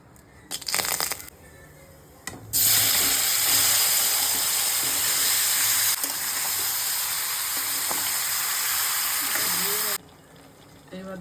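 Whole garam masala spices hit hot oil with a sudden loud, steady sizzle that holds for about seven seconds, then cuts off, with some clattering and movement before and after.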